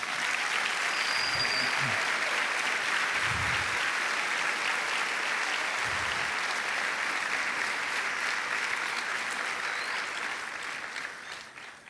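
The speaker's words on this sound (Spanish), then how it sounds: "Dale un fuerte aplauso al Señor." Congregation at a church service breaks into strong, sustained applause, a thick continuous roar of clapping filling the room, with a few low thumps, tapering slightly at the end.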